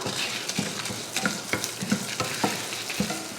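Dried red chillies, a piece of cinnamon, two cardamom pods and two cloves roasting in a pan, a soft sizzle broken by repeated light spoon scrapes and taps.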